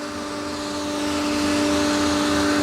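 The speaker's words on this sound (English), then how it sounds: "These are the vacuum pumps of the filter machine." Vacuum pumps of a transformer drying filter machine in a KPTCL repair bay produce a steady, loud mechanical drone with a constant tonal hum and broadband hiss, swelling slightly over a few seconds with no talk.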